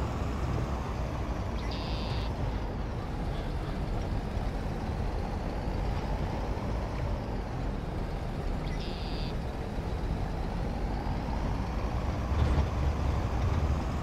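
A tractor pulling a cultivator in Farming Simulator 22 gives a steady, loud engine drone with a continuous low rumble, broken by two brief high electronic tones.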